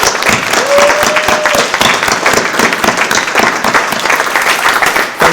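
An audience at a Project READ tutor recognition event breaks into loud, dense applause that holds steady throughout, many hands clapping together at close range.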